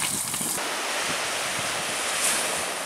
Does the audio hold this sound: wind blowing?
yes